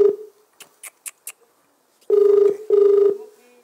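A phone line during a call: a few short clicks followed by two loud, close, evenly spaced ringback tones, each about half a second long.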